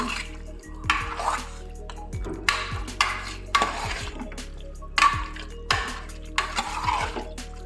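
Chicken frying in a pot for sambar, with repeated spoon scrapes and metallic knocks against the pot over a low, steady background, loud and close.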